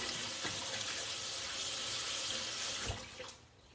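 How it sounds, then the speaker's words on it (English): Tap water runs into a kitchen sink during hand washing, a steady close hiss and splash that cuts off near the end, leaving a quieter tail. "let me wash my hands"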